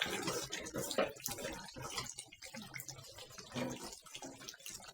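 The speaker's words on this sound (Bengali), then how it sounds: "পানি দিয়ে দিলাম" Water poured into a pot of chicken curry with potatoes, a close, continuous splashing pour with bubbling, no voices.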